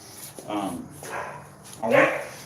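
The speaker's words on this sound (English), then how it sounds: "That sounds like a big dog." A big dog barks at a distance in several muffled bursts spread across a couple of seconds, heard outdoors amid background noise during door-to-door canvassing.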